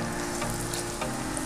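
Pempek adaan, a Palembang fish cake, frying straight in hot oil with a steady, dense sizzle and crackle, close and fairly loud throughout with no voices.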